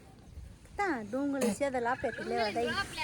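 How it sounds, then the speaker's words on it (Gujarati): A rooster crows close by in a farmyard, a loud run of rising and falling calls lasting a few seconds. "કુકડે કુ કેમ બોલે કેમ બોલે સેજલ"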